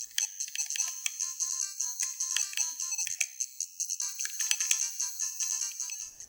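Chiptune arrangement of the familiar Tetris theme with game sound effects, played on a soldered gameBadge3 handheld through its multi-channel audio, as bright, bleepy square-wave melody notes in a quick steady rhythm, alone and fairly clear.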